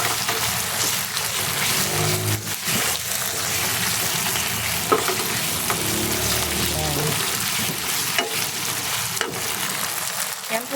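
Beef sizzles and fries while being stirred in a pan, a steady loud crackle with scraping stir sounds throughout.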